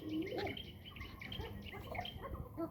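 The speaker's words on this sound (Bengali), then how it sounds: "এখানে কালদম পেয়ারটা অনেক দেখলাম আজকে উড়াউড়ি করতেছে" Pigeons cooing and chirping on a farm with many young birds, a steady close chorus of soft calls running throughout without talk.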